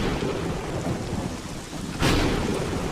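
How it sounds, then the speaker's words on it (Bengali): Steady rain pours down during a storm, with a sudden thunderclap bursting in near the end over the constant hiss of rainfall. "এক নাগাড়ে বৃষ্টি পড়েই চলেছে। তার সাথে আবার এই ঝোড়ো হাওয়া, আর কি জোরে জোরে ডাক মারতেছে।"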